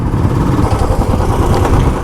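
Motorcycle engine running with a suspected problem on a street in Ahmedabad, a loud, rough, continuous low rumble close to the microphone with no voices.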